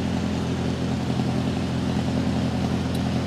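Lawn mower running steadily nearby as the lawn is cut, a constant droning engine hum with no pauses.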